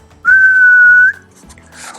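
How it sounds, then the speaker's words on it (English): A single clear whistled note held steady for nearly a second, loud and close, with quiet room sound before and after. "Suddenly, out came a whistle."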